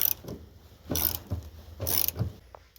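A nut on an Estate washing machine agitator is worked loose, giving three or four loud, close ratcheting mechanical bursts spaced roughly a second apart, with quiet pauses between them.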